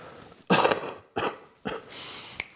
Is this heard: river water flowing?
no